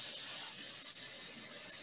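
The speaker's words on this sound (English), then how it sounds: "when you start spraying, you need to start spraying off of the piece that you're doing just to make sure that you're getting a good spray" An airbrush sprays paint in a steady, close, bright hiss, test-sprayed off the piece before stenciling a woodturning, with a momentary dip in the airflow midway.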